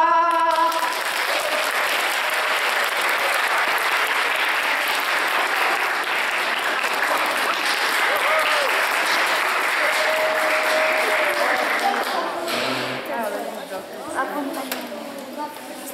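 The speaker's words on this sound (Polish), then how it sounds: "Brawa!" Loud, continuous applause from a concert audience at a music school performance of Carnival of the Animals with two pianos, a dense clapping wash lasting throughout with some murmuring chatter underneath, thinning slightly toward the end.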